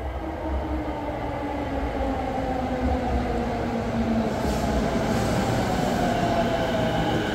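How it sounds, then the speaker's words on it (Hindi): A train pulls into a station in Japan with a loud, steady rumble of wheels on rails and rising tonal whine from the motors, continuous and close, with no talk. "और वो आ रही है ट्रेन।"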